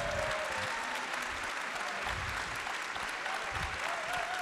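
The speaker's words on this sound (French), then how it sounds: "je vous demande de faire un tonnerre d'applaudissements à Madame Caroline" A conference audience in Arras gives a thunderous round of applause: dense, continuous clapping from a large crowd that holds steady throughout.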